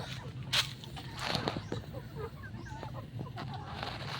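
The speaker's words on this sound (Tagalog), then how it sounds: "So ito na mga kadiskarte, mga manok oh." Chickens kept in a pen on a vegetable-growing plot cluck softly and intermittently, several birds murmuring close by over faint background noise.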